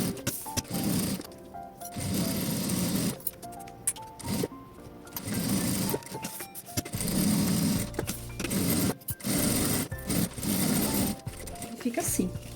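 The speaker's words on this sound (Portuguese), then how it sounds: "E agora passa uma costura em toda a volta, utilizando sempre um calcador de plástico para costurar o plástico cristal." A sewing machine runs in bursts, stitching crystal plastic through a plastic presser foot, its rapid mechanical whir starting and stopping several times close by, with a voice talking over it.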